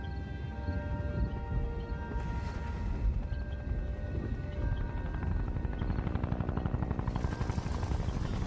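A helicopter in an animated Skibidi Toilet episode, a dense steady rotor roar mixed with layered mechanical and battle noise, loud and continuous throughout with no speech.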